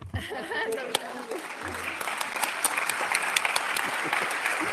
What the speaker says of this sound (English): Let's clap for Dr. Anne